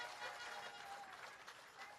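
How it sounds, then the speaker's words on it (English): Faint, steady applause rises from the audience at the official launch ceremony of the Pedro Plains Irrigation Expansion Project in Jamaica, heard as a soft, continuous rush of clapping from a distance. "I want you to give another round of applause for his presence here this morning."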